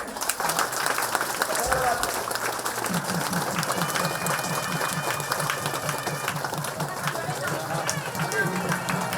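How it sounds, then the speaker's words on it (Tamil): A crowd claps during the Thirukalyanam wedding ceremony at the Sri Sendraya Perumal temple in Sendrayanur, with steady applause running throughout under voices and a low droning hum. "எல்லாரும் ஜோரா கைதட்டு"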